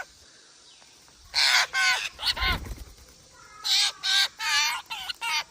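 A crowd of ducks and other birds rushing in for mixed feed, loud bursts of nearby quacking and squawking calls in quick clusters, with a short low rumble partway through.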